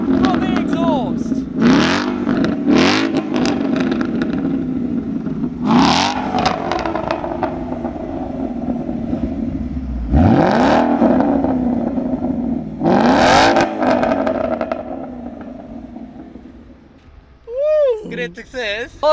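A V8 Ford Mustang engine revs repeatedly, its pitch swelling and falling in several surges, with voices talking over the engine throughout.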